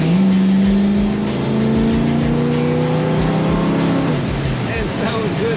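A 1964 Chevrolet Chevelle Malibu SS two-door hardtop pulls hard under acceleration, its engine note rising steadily and loud from inside the car, with a voice talking over the drone.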